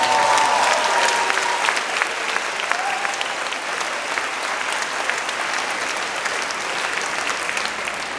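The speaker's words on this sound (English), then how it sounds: "just clap it up for each other" Audience applause fills a vegan camp-out keynote hall, a dense, steady wash of clapping from a large crowd that holds at an even level throughout, with a few voices faintly mixed in.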